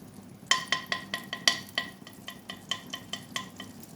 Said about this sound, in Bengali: দিয়ে দেবো এখানে অল্প একটু বাটার। গ্যাসটা ধিমি আঁচ করে রেখেছি, বাটারটা মেল্ট হবে।